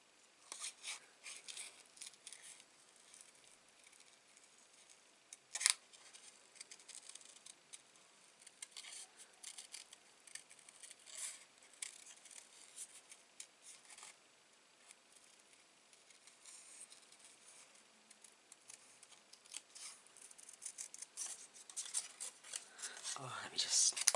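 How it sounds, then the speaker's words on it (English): Paper card pieces being fussy cut with scissors, quiet close snipping and rustling clicks in irregular bursts, with soft talking now and then. "I'm just going to fussy cut these out"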